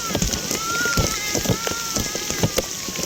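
Heavy rain falls steadily, with irregular louder splashes and drips striking a nearby surface over a constant hiss, close and moderately loud.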